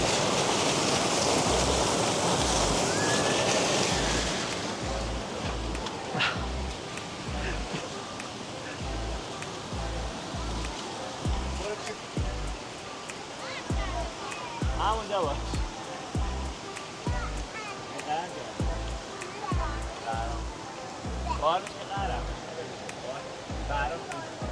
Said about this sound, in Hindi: बैठे आप, पानी का शोर कानों में लग रहा है। शोर क्या, सुकून, पानी की आवाज़, ठंडा पानी